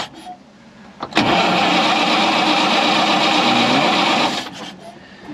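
A Bedford QL military truck engine with a bone-dry carburettor cranks and catches, giving a loud, steady roar for about three seconds before cutting back to quiet surroundings.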